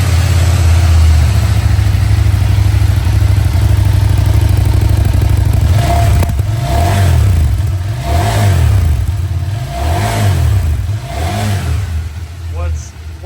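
A CFMOTO Ibex 800 motorcycle with a Yoshimura exhaust starts up and idles with a deep, steady rumble, then gets four or five sharp throttle blips that rise and fall in a regular rhythm, loud and close.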